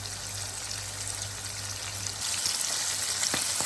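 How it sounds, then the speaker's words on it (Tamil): Sardines fry in hot oil in a pan, giving a steady, close, even sizzle and crackle throughout with no talk. "இப்போ இந்த மீனை பொரிய விடலாம்"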